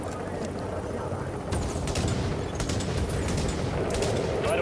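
Gunfire from the shooter game Tom Clancy's The Division rattles in quick bursts under a voice, with sharp shots clustering in the second half over a constant rumbling game backdrop.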